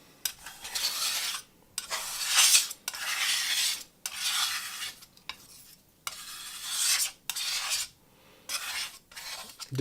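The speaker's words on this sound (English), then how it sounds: "as soon as you don't hear the pigment particles anymore underneath your muller" Glass muller grinding yin min pigment into paint on a slab, a gritty rasping scrape repeated in about eight close strokes separated by brief pauses, with no talking.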